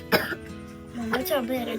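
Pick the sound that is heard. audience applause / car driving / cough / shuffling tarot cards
cough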